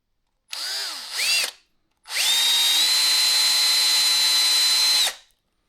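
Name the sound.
power drill boring hole in pipe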